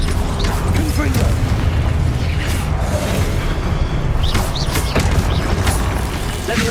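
A Confringo fire-blast spell exploding in the video game Hogwarts Legacy, a dense, continuous rumbling boom with layered blasts and crackling debris, loud and sustained throughout.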